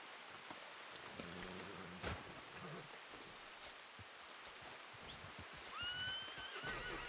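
A horse in Red Dead Redemption 2 gives a short whinny, with hoof clip-clops and a steady rain-like hiss of ambient game sound behind it, all fairly quiet.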